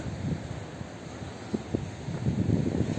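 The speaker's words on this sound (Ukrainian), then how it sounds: "Бо тут теж вітер." Steady wind on the Odesa seafront, Ukraine, buffets the microphone in low rumbling gusts, continuous and fairly loud, with no voices.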